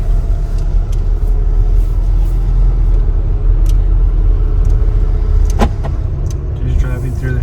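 A Volkswagen with a DSG gearbox drives through city streets, its steady loud road and engine rumble heard from inside, broken by a few faint clicks and knocks.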